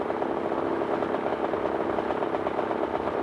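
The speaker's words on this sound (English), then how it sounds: "his mechanic Craig Ponequin making sure the 35 horsepower engine kept ticking over" A 35 horsepower ultralight aircraft engine drones steadily in flight, a loud continuous buzzing hum with no breaks or voices.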